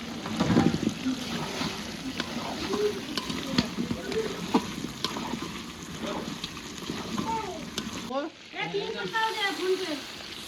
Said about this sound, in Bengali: এখন আলু দেবো, আলুটা একটু কষানোর পর তারপর জল দিয়ে দেবো